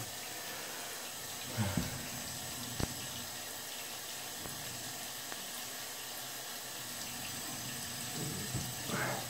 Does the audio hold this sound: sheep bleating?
no